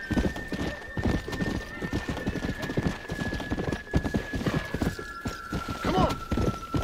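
A horse in the Red Dead Redemption Undead Nightmare game clip-clops along at a steady trot, hooves thudding close and rhythmic, with a drawn-out whinny rising near the end over a sustained musical tone.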